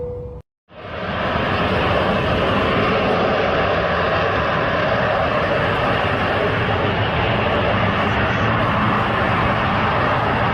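Airliner in flight racing another aircraft, heard as a steady loud engine drone that starts abruptly after a short gap and holds for about ten seconds.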